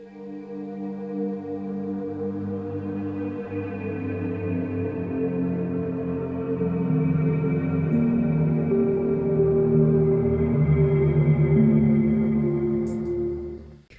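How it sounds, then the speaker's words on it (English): A dark ambient Arturia Pigments synth preset, drenched in supermassive reverb, holds long, muffled, sustained tones that shift slowly. It swells gently louder before fading out at the end. "And then I added a supermassive reverb for this preset, and then sounds like this."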